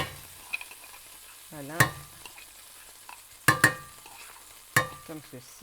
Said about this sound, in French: Donc vous voyez, ça crépite un petit peu ici là